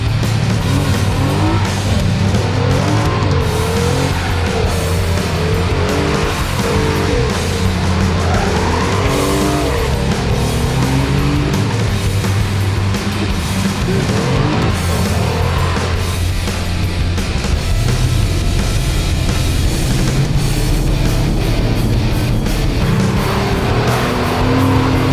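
A first-generation Toyota Tacoma pickup's engine roars as its tires squeal and skid doing donuts in continuous loops. The sound is loud, close and sustained throughout.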